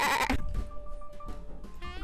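A person imitates a sheep with a short voiced bleat, a wavering nasal call that breaks off quickly, followed by fainter vocal noises; close and fairly quiet, with no other animals present.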